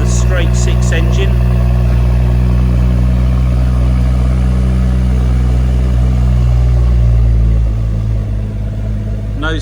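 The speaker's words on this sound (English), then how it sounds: "Distinct sound from the straight six engine." A BMW M140i's straight-six engine runs with a steady, loud, smooth hum, settling lower near the end, with a few faint chirps early on.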